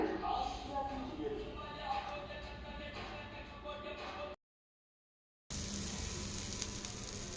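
Appam batter poured into a hot appam pan, giving a quiet, steady sizzle that stops in a brief silent gap, then resumes.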